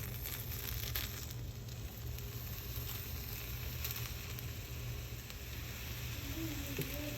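Pork fat sizzles and crackles steadily in a frying pan, a close, continuous hiss that carries on alone.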